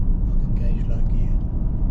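A four-wheel drive vehicle creeps down a steep, narrow descent in low gear, a dense, steady low engine rumble filling the scene while a person speaks over it.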